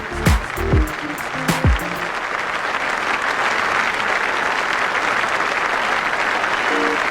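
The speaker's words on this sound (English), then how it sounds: "Marvellous applause all around the ground." Applause spreads around a cricket ground after a well-played shot, a broad steady wash of crowd clapping that follows a couple of short sharp knocks at the start and continues alone to the end.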